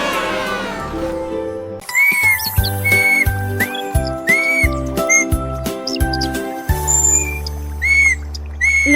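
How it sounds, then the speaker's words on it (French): Whistled melody for a duckling in a children's story, bright sliding chirps and tweets over a steady musical backing, loud and close. "Le caneton a commencé à essayer des mélodies sifflantes atteignant le ciel."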